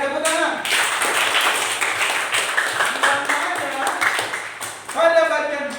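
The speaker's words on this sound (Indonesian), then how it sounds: "Oke, baik, tepuk tangan." Steady applause from a classroom group runs through most of the clip, with a teacher speaking briefly in Indonesian at the start and again near the end.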